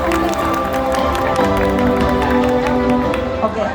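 At a Myanmar New Year thank-you party, an audience claps steadily to welcome guests, a dense crowd of applause running throughout with a tonal musical or vocal layer underneath.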